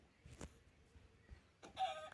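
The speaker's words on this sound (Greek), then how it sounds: "Αυτό είναι π.χ. μια κότα." A Minecraft chicken gives a couple of faint, brief clucks, one early and one near the end, against near silence.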